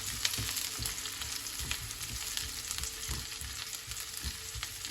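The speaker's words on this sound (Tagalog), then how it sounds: "Nagpapainit lang po ako ng mantika at akin na ilalagay itong bawang sibuyas." Garlic, onion, ginger and shrimp paste fry in hot oil in a pan, giving a steady close sizzle with soft scraping stir strokes throughout, no talking.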